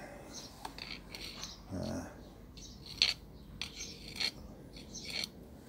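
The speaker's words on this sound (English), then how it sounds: "Just going to try and get a little bit more of that carefully out on the end of the screwdriver" Screwdriver tip scraping and levering debris out of a Moto Guzzi V65 engine cylinder, faint intermittent scratches, light metallic ticks and short rasps at close range in a quiet workshop.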